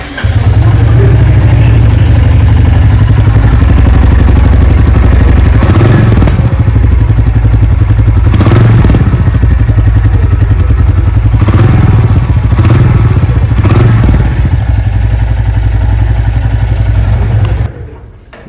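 A Royal Enfield Classic 350 Stealth Black motorcycle engine runs close and loud with a steady thumping idle, punctuated by a few brief sharper bursts, before cutting off abruptly near the end.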